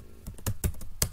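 Rapid keystrokes on a computer keyboard as a Windows command-prompt command is entered, a handful of crisp, close clicks in an uneven rhythm with no voices.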